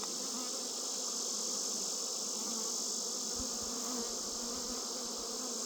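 Honeybees in a hive: a dense, steady, droning buzz from many bees close by, continuous and even in loudness, with faint low bumps partway through and no talk.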